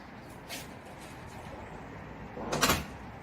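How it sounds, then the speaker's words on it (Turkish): A building entrance door with a freshly repaired hydraulic closer swings shut, ending in one firm thud, after a faint earlier click; quiet room tone fills the gaps. "Kapımız gayet güzel bir şekilde kapanıyor"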